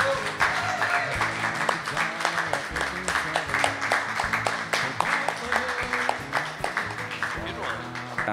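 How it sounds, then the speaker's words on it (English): A crowd applauds with steady, dense clapping that continues throughout, while a voice speaks over it. "we give him a round of applause."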